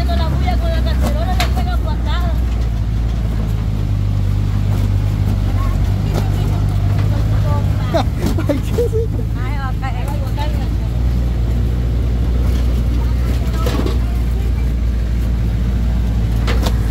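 A car cabin in motion with a constant low rumble and scattered metallic rattles like a loose pan, while several people talk over the noise throughout.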